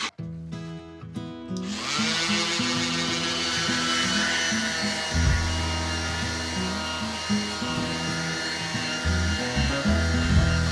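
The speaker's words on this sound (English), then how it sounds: "We'll get these three pieces sanded." Power sander working over three cut wooden pieces for a kitchen cookbook stand, a steady loud droning whir with shifting pitch as it moves across the wood, running continuously after a brief start.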